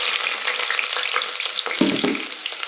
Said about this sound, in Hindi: तो इसमें ये तेल गर्म हो गया। अब इसमें मैंने डालना है प्याज।